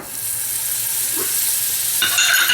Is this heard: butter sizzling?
yes